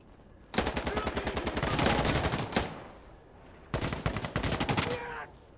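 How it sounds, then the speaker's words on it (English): Rapid automatic gunfire in Insurgency Sandstorm, fired in two long bursts with a short pause between them, sharp and fairly close. "Where is he shooting?"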